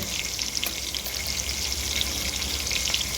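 Mustard seeds and chana dal sizzling in hot oil, a steady bright crackle with scattered sharp pops throughout, close and continuous with no talking.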